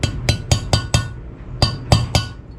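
A valve guide is tapped into a cylinder head with sharp metallic hammer blows, first five quick evenly spaced strikes, a short pause, then three more, close and ringing.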